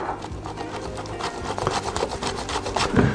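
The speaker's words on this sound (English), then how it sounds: "But what I do, I just like to grate it down." A block of cold butter is rubbed back and forth across a metal grater, giving rapid, rhythmic scraping strokes up close at moderate volume.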